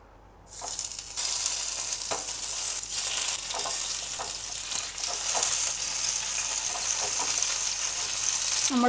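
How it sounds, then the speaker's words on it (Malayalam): Boiled chicken frying in oil in a pan for Yemeni chicken haneeth: a loud, steady sizzle that bursts up after a quiet start and holds throughout, with occasional stirring scrapes and pops. "പാനിലോട്ട് കുറച്ച് ഓയിൽ ഒഴിച്ചിട്ട് വേവിച്ച് വെച്ചിട്ടുള്ള നമ്മുടെ ചിക്കൻ ഒന്ന് ഫ്രൈ"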